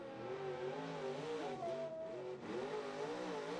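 A pulling truck's engine at the Cookport Clash truck and tractor pull, heard from a distance as a faint, wavering, droning growl whose pitch rises and falls as the truck bounces down the track.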